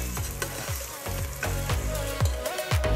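Tomato paste toasting in a pan for mechado, a busy sizzle broken by repeated rhythmic spatula scrapes and knocks against the pan, close and fairly loud, with no clear talk.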